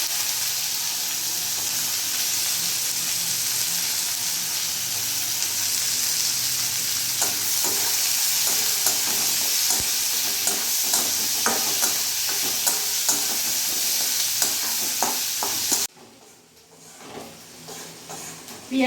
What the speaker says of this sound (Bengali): তারই মধ্যে এখানে পেঁয়াজ কুচনোগুলো দিয়ে দিলাম।